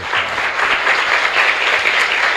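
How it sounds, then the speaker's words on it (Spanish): A congregation applauds during Mass at the Divino Niño Jesús chapel, a loud, thick wash of many hands clapping continuously without a break. "Fuerte aplauso para todos ustedes."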